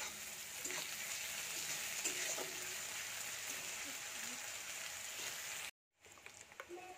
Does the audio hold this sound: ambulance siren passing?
no